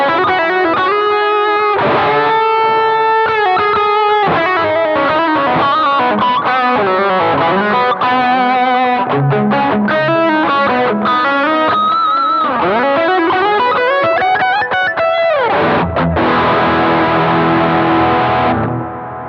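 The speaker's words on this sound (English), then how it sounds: "I added a tube screamer in." Electric guitar through a Boss GT-1000 Core with a Tube Screamer overdrive plays a continuous melodic lead line, crunchy, loud and sustained throughout.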